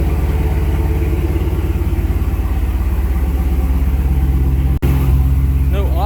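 A Can-Am Commander UTV engine running on E85 fuel idles and revs steadily up close, a dense low mechanical drone with a brief cutout near the end and a rising whine following.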